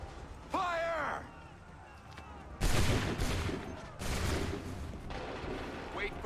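Musket volleys crack out in Assassin's Creed 3 during a battle, two loud bursts of massed gunfire a little over a second apart, each ringing out briefly, with a shouted command just before them.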